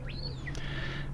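A pet bird chirps from the back of a room indoors, with a couple of quick rising and falling whistled calls over a steady low electrical hum.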